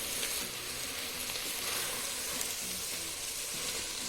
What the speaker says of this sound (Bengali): চালটা একটু নেড়ে নেবো সবজিগুলোর সাথে।